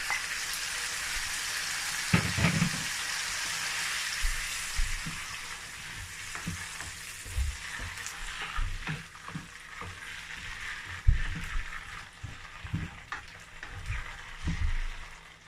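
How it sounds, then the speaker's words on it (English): Tomato and pepper frying in a sardine sauce in a pan, a steady close sizzle with occasional stirring clatter and soft pops throughout, no talking. "So I'm going to allow this to fry, to cook very well."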